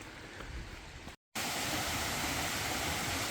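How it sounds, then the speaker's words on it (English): Water runs through Franklin Canyon in Los Angeles after rain, a steady broadband rush like a small stream or cascade, continuous and fairly close, briefly cut by a moment of silence before resuming. "I love to see water run through this area."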